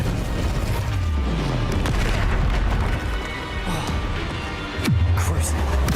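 In the Hogwarts Legacy video game, an Incendio fire spell goes off amid dense combat, with deep booming blasts and whooshing bursts layered over constant rumbling effects, and a voice speaks over the din.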